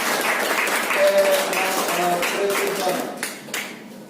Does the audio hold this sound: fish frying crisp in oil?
no